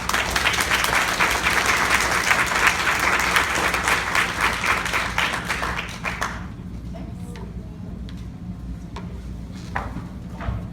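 Audience applause at a CNA graduation ceremony for nursing assistants at a care facility, loud sustained clapping from a crowd for about six seconds that then fades to scattered claps and a quiet room.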